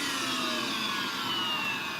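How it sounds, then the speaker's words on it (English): A Shark vacuum cleaner runs steadily with a constant, even roar and a strained brush roll, continuous throughout with no voices. "So the motor sounds fine, but this brush is straining to turn."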